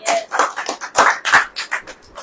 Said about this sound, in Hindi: ताली नहीं बजाएंगे?